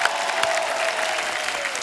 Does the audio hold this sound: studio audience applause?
yes